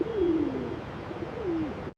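A pigeon coos twice in a soft rising-falling call, the second phrase shorter, close and clear over a faint steady background hiss.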